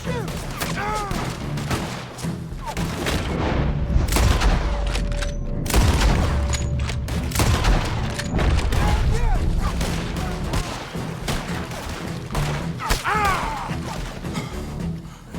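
A chaotic gunfire shootout in the video game Red Dead Redemption 2 brings dense, continuous volleys of loud shots and booms, with in-game voices shouting over the fight.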